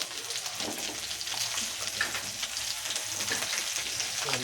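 Capsicum and mushroom sizzle steadily in a pan for a vegetable curry, a soft continuous frying hiss with faint crackles, close and fairly quiet with no talking.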